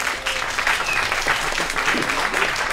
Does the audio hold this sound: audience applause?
yes